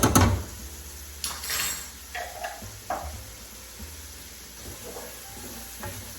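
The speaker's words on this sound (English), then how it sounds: "Now you want to cook these onions for probably around 5 to 7 minutes until they get soft." Chopped white onion and minced garlic cook in a pan, with a soft sizzle under scattered clinks and scrapes of a utensil against cookware, fairly quiet and close, no voices.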